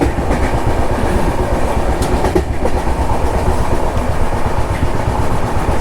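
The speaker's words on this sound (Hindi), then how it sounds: "शायद थोड़ा और आगे चलने लगी है ट्रेन।" Vaishali Superfast Express passenger train in motion, a loud, steady rumble with rhythmic clickety-clack of wheels over rail joints continuing throughout, heard from inside the coach with no talking.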